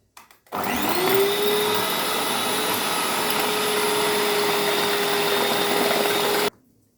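An electric beater whips sponge cake batter for a steamed vanilla cake, running as a steady, loud motor whine with a rising pitch at start-up and a clean stop near the end.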